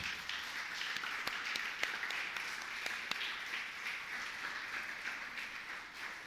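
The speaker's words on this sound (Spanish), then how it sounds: "le damos un fuerte aplauso al Señor" A community gathering at a church-run soup kitchen breaks into applause for the Lord, steady and fairly faint, with sharp individual claps standing out over a continuous patter for about six seconds.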